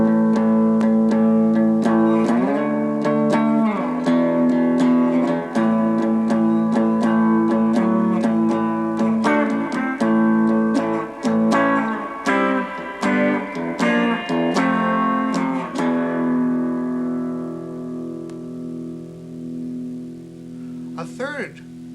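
An electric guitar plays bar chords, the same chord shape shifted to new positions along the neck. Strummed chords ring out with clear changes, growing busier midway, then a final chord decays into near quiet. No one speaks.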